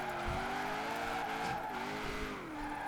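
A Chevrolet Impala SS drifts in Forza Horizon 4, its engine droning and rising and falling between corners while tires squeal in sustained wails, loud and close.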